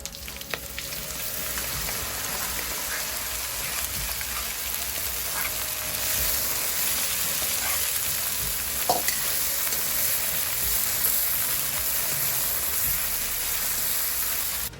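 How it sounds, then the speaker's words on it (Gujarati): Green garlic frying with crackled cumin seeds in hot oil for Kathiyawadi brinjal bharthu, a steady, close, continuous sizzle with faint stirring, and no talk. "આપણું જીરું ફૂટી ગયું છે, એની અંદર નાખશું લીલું લસણ."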